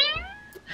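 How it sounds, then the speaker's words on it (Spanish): A cat gives a single short meow, close and clear, with a little background noise. "Tenemos una infiltrada que ha entrado, que es la gata que está por aquí."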